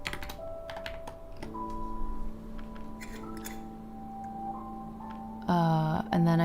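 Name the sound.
typing on a computer keyboard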